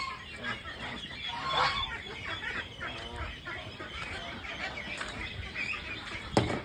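A large flock of meat ducks on a farm, around a thousand birds seven days old, keep up a dense, continuous chorus of calls and clucks with some wing flapping, close and busy throughout.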